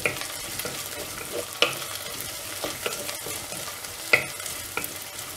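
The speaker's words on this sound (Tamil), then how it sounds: "இதில் வந்து நம்ம கொத்தமல்லியை போட்டு வதக்கிடலாம்." Onions and coriander leaves sautéing in a clay pot for an anchovy fish curry give a steady close sizzle, broken by a few sharp spoon clinks and scrapes against the pot.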